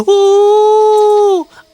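A person's voice imitates a jackal's howl: one loud, long, steady note held for over a second, then bending down and dying away.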